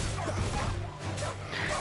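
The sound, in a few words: dog barking in a video game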